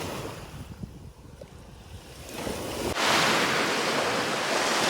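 Lake waves wash and churn steadily on a Douglas County, Wisconsin shore, with broadband surf noise building and growing louder partway through, mixed with some wind rumble.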